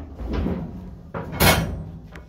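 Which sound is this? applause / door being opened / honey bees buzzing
door being opened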